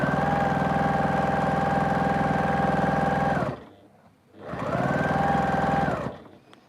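A sewing machine hums through two continuous runs of stitching with a brief pause between, close and steady, as it sews quilt binding and flange near the fabric edge.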